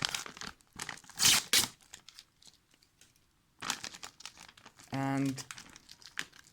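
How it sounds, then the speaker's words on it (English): An MRE granola with milk and blueberries pouch torn open from the top, giving short, sharp crinkling and ripping bursts of plastic packaging between quiet pauses, with a voice speaking briefly. "So, it tells us to tear from the top."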